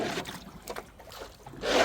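A small boat moves on the backwaters at Kadamakkudy, with water splashing and swishing against the hull in uneven surges and a louder wash rising at the end, nearby and moderate in level.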